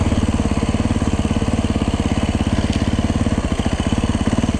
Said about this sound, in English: Second gear back to first.